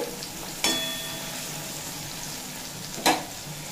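A tomato softens in a frying pan for bhindi posto, a steady low sizzle broken by two sharp stirring scrapes, close and alone.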